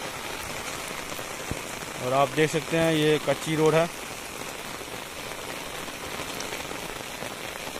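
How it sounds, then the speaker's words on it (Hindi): Steady rain patters on a dirt road beside a maize field in a Bihar village, a constant hiss of drops while someone talks over it for a short stretch. "और बारिश आ गया।"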